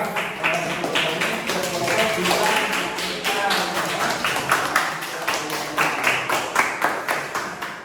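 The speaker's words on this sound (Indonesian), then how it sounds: "tepuk tangan buat kelompok 2 untuk semuanya" A group of people clapping together, a dense, steady patter of applause that carries on throughout, with some voices mixed in.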